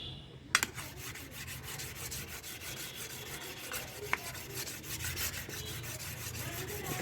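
Steady rasping scrub of a carbon steel kitchen chopper being rubbed to clear stains, a continuous close abrasive texture with a sharp knock near the start and another brief click midway.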